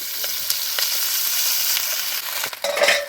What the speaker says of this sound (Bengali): এখন আমি ভাতটা ঢেলে দিব